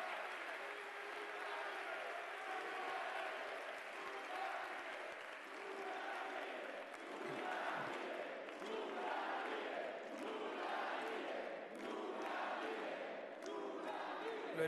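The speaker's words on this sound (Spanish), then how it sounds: "yo pido un aplauso para Lula, ejemplo de esa persecución" An audience at a keynote lecture in Mexico breaks into sustained applause mixed with cheering, a dense, steady clatter of many hands heard faintly and at some distance.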